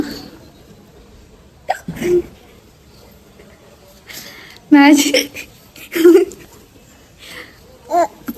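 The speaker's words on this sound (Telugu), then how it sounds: "నాకు ఎక్కిళ్ళు పుట్టాయి వీడికి సేమ్ ఎక్కిళ్ళు బాగా గమనించండి" A baby hiccups with short, sharp, isolated catches spaced a second or more apart, close and fairly loud against a quiet indoor background.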